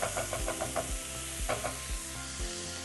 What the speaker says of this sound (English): We're just gonna cook them onions for a little while.